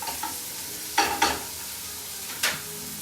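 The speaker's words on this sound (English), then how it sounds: "Okay, so let's cook off our meat." Meat for burritos sizzles steadily in a pan while a utensil stirs it, with a few distinct scraping strokes standing out over the constant frying hiss.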